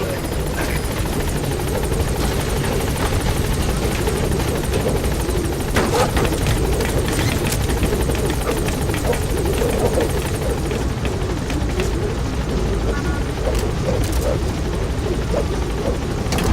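The B-Quad helicopter in Metal Gear Solid V approaches a landing zone, a loud, constant rotor thrum and engine roar close by, with faint radio voices and occasional clicks underneath.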